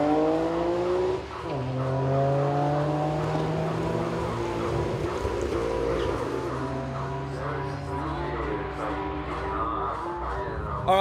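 Nissan GT-R running E85 with a Haltech setup, launching on a drag strip with four-wheel drive, the engine screaming and rising through gear changes, loud and close, with a sharp drop at a shift.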